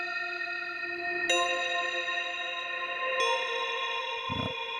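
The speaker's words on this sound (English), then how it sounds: "the other one is just going to be a nice reverse reverb." Bright, ringing tones swell and sustain with a washed, reverberant tail from a Soundtoys SpaceBlender reverse reverb, as if echoes build toward each note; a short low thump near the end.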